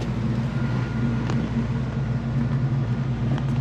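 A Chevrolet K5 Blazer drives on a test drive, its engine giving a steady, close, low rumble with road noise inside the cab and no talking.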